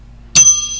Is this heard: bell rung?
yes